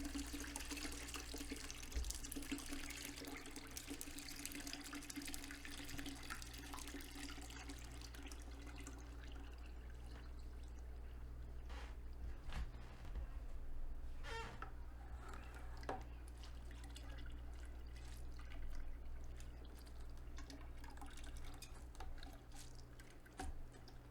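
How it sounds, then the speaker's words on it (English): Grape juice for homestead wine pours steadily through a sieve basket that catches the skins and seeds, making a continuous watery splashing and trickling stream at close range, with no voices. "I want to sieve out the skins and seeds from this juice"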